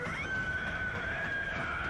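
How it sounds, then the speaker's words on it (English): A drawn-out, eerie screech from an enemy in Bloodborne, a single sustained high wail held for a couple of seconds over a dim, gloomy game ambience. "Ominous screech."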